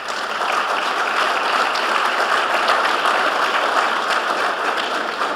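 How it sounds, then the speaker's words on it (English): Sustained applause from an audience at a panel session on negotiating compensation, a steady dense wash of many hands clapping at even loudness throughout, with no talk over it. "I want to give the gentleman on the panel a round of applause"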